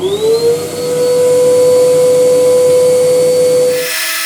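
A power saw running on a sled, cutting wood into six segments, holds a loud steady whine from start to end and then stops abruptly near the end, with no talk.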